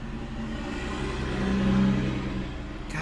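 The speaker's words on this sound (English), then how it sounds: "Semi-trucks out here, man, I'm telling you" A semi-truck passes outside at night, a steady low engine rumble and road roar that swells slightly mid-pass then eases, heard continuously without talk.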